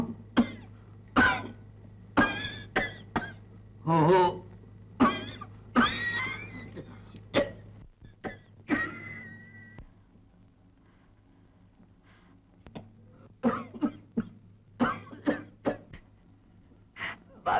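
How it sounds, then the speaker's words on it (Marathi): A person coughs repeatedly in harsh, rasping bursts, several in quick succession with pauses between, close and fairly loud, with some throat clearing and breathing and little else around. "खोकत"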